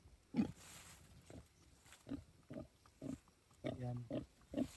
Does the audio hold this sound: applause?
no